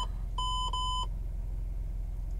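A car's backup camera parking alarm gives two quick electronic beeps, then falls silent over a low steady engine hum.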